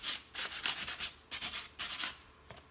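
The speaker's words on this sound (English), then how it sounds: "I'm going to do this sanding," A headboard being sanded by hand, with repeated short rubbing strokes in an irregular back-and-forth rhythm, close and moderately loud, with no talking.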